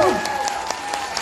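An audience claps at a top leaders' event, light applause with scattered individual claps spread across the moment, moderately loud.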